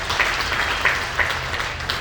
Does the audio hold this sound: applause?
yes